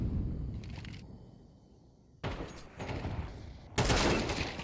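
Gunfire bursts in a Counter-Strike 2 tournament match on the Ancient map, three loud broadband volleys separated by quieter gaps with faint background noise.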